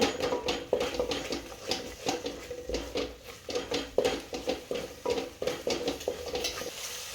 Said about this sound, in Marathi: एक मिनिटभर चांगलं परतून घेऊया